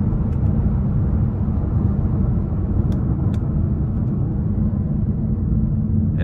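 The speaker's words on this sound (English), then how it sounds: "Do some downshifts here." A 2021 Mazda 6 with the 2.5 turbo engine drones steadily from inside the cabin during downshifts, a loud, continuous low rumble with little change in level.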